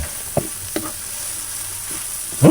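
Mung bean stew with anchovies being stirred in a pan, a few soft scraping strokes and faint sizzling, ending in a louder clatter of the utensil against the pan.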